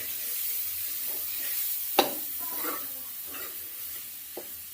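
Dal tipped into a hot tadka, hissing and sizzling steadily as it fries, with a brief clatter of stirring partway through and no voices.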